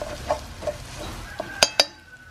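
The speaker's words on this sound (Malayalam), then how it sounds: "ഇങ്ങനെ ഇളക്കി കൊടുക്കണം." A metal spoon clinks and scrapes against a pan while ginger-garlic paste is stirred for a prawn roast, a few sharp taps over a faint sizzle.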